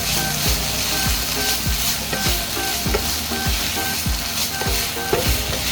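Shrimp paste with chili and tomato sautés in a pan, with a steady, close sizzle broken by regular scraping stirs of a utensil and no talking.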